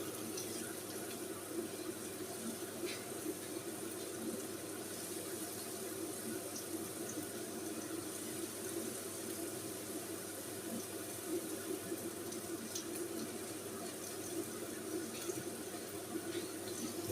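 Water fetched from outside and poured: a faint, continuous rush of running water that stays even and unbroken throughout.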